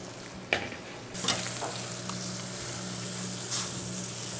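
A walleye fillet frying in a pan after being flipped, a steady close sizzle that jumps louder when the fish hits the hot surface, with a few sharp spatula taps.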